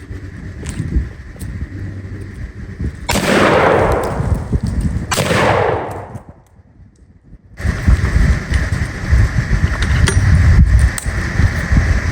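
A Remington shotgun firing 2 3/4 inch 7.5 shot shells outdoors: two loud blasts about two seconds apart, each trailing off in a long echo, over steady background noise.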